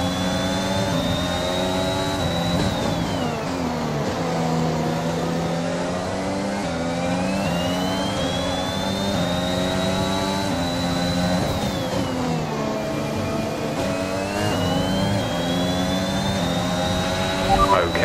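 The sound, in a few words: failing race car engine in F1 2021 video game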